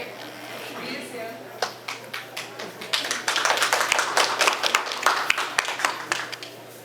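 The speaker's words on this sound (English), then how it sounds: "Applaud her out." Convention audience applauding a costumed cosplayer at a Sci-Fi Valley Con guest panel, scattered claps building into dense, steady applause from a room of people.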